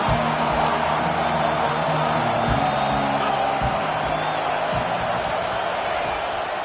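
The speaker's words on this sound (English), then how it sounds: "Decibels rising as the crowd gets behind this defense on 3rd down" A football stadium crowd at Oregon roars steadily as the home defense faces third down, with a dense, sustained wash of cheering and whoops and a few sharp thuds, while a broadcaster talks over it.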